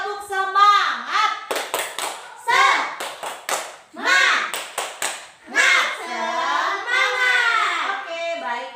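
A class of schoolchildren performs a rhythmic group clap, with crisp sets of hand claps set between loud chanted children's voices, close and lively.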